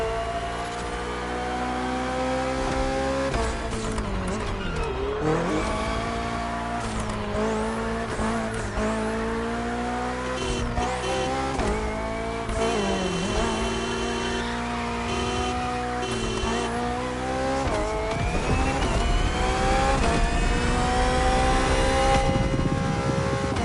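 A BMW Hybrid V8 race car engine screams continuously at high revs, with rising and falling pitch through gear changes during a race, loud and steady throughout with no talk.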